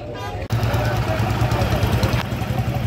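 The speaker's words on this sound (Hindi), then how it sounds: "काफ़ी ट्रैक्टर आ रहे हैं भाई, और भी आ रहे हैं" Tractors, including John Deere and Sonalika DI models, roll in to a weighing point. A steady low engine drone runs throughout, broken by a brief dip near the start, with voices mixed in.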